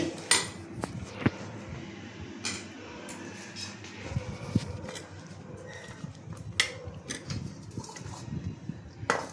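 Mango pieces are dropped into a metal pot, giving scattered clinks and knocks of utensils and cookware at irregular intervals over a quiet kitchen background.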